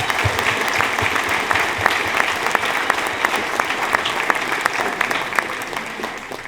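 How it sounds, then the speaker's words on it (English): An audience at a luncheon gives a warm round of applause, a full, steady roar of many hands clapping close by, with a few sharper individual claps standing out throughout. "Can we please give them a round of applause?"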